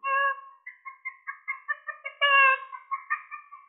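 A voice imitates cackling chickens, a quick, steady run of clucking notes broken by louder drawn-out squawks, close and clear with nothing else heard.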